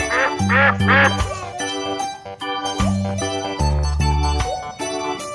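A person imitates a duck with repeated nasal quacks in short bursts, set against a bouncy, cartoonish musical backing.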